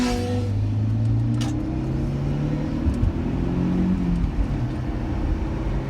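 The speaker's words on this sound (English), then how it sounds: "This car is very fun to drive. It really goes when you want it to." A car engine hums steadily and pulls up through its gears as the car accelerates, with a loud, continuous drone and no talking.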